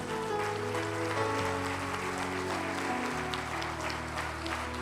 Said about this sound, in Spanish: Yo le doy un fuerte aplauso al Señor Jesús.